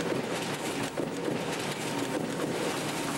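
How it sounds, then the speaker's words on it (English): Printing presses at a print shop run in a steady, dense mechanical roar with a broad rumbling hum, continuous and fairly loud throughout with no pauses or voices. "That's the sound of our presses running."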